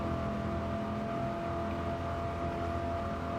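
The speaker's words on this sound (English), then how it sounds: "Look at that full rev there." A race car engine in Gran Turismo 7 at Monza, Lancia and Plymouth cars named, holds a steady, loud high-rev drone with a dense buzzing tone throughout and no voices.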